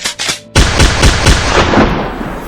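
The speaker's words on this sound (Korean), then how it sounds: "먼저 올린 4발의 총성" Rifle gunshots ring out in rapid succession at close range, loud, cracking reports with heavy echoing tails that blur together, after a brief quieter lead-in.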